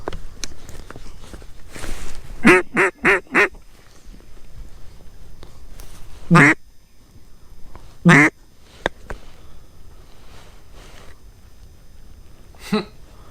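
Ducks quack in loud, scattered bursts around decoys during a public-land kayak duck hunt, with several quick calls in a row and then single calls further apart, over faint outdoor ambience and low voices.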